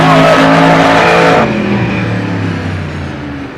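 A monster truck roars in a drag race down a runway, with a loud, close engine howl. The pitch rises, drops at a gear change, then fades slightly as the truck pulls away.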